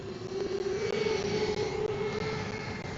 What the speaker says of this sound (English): I can hear the drone screaming at me.